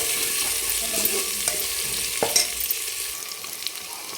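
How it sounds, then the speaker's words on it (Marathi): Finely chopped onion fries in oil in a pan, a continuous sizzle broken by several scraping clinks of a spoon stirring, close and alone without talk. "1 मोठ्या आकाराचा कांदा असा बारीक आपण कापून घेतला तो टाकून घेऊ आणि चांगला याला सोनेरी कलर येईपर्यंत आपण परतून घ्यायचं"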